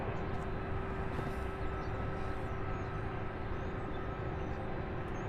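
A Boeing 747 departs Louisville International Airport near the UPS Worldport, heard as a steady, dense jet roar that holds constant and fills the whole stretch without pause.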